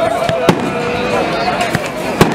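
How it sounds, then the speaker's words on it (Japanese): Festival fireworks at the Yakeuchi Donto matsuri burst in a rapid series of sharp cracks and pops over a crowd, loud and close, with people chatting throughout. "これ連続する花火も私も大好きなんですけどね"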